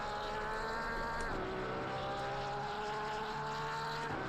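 A race car engine in Assetto Corsa Competizione whines at steady high revs, with a few sharp pitch shifts as the car changes gear, loud and continuous without any talk.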